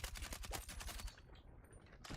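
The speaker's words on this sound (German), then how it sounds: "Ein Schuss hat gelangt für einen Abschuss im Heli." Rapid bursts of gunfire in the video game Battlefield 6, a dense run of loud shots for about a second before the firing drops away, then a brief return at the end.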